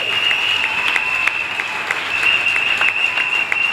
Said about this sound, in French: Donnez quand même l'acclamation.